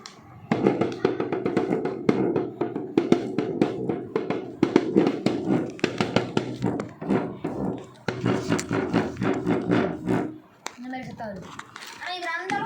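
A homemade urumi flexible sword is swung repeatedly, each pass giving a sharp whipping crack in quick succession, close by, with a voice talking over parts of it.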